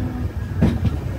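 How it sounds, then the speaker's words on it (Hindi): Vivek Express pulls into Ernakulam Town station, giving a low rumbling rolling noise with a couple of brief clanking knocks, heard from inside the coach. "अभी हमारी ट्रेन एर्नाकुलम टाउन स्टेशन पर पहुंच रही है।"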